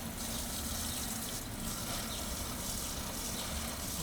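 Water pours steadily for several seconds to mix Miracle-Gro plant food in a jug for watering freshly planted Vista Bubblegum petunias, a constant close rushing gush with no voices.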